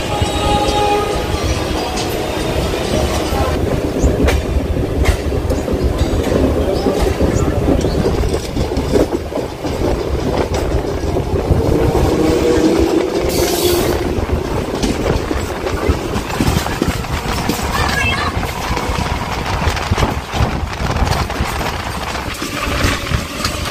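Passenger train running from Naihati towards Bandel junction, a loud continuous rumble and rattle heard from on board, with steady rolling noise throughout.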